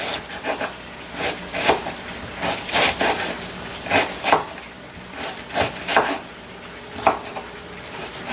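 Knife cutting through onion for jollof rice on a board, a run of crisp separate chops in small clusters, fairly close, with quiet pauses between and no one speaking.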